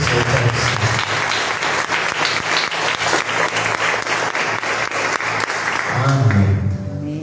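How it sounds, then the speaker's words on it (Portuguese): A church congregation claps loudly and steadily during a worship service, a dense, sustained round of applause that swells toward the end, mixed with crowd voices. "aplaudam o Senhor de todo o seu coração"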